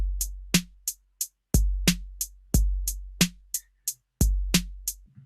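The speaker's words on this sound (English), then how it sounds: "I want to very quickly put 8th notes over this drum beat" A programmed electronic drum beat built in Ableton, with punchy kicks and crisp hi-hat and snare hits in a steady 8th-note pattern, clean and alone.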